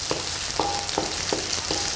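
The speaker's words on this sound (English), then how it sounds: "I'm frying up my onions." Steady sizzling of onions frying in a pan, with a few soft clinks of a utensil stirring at regular intervals.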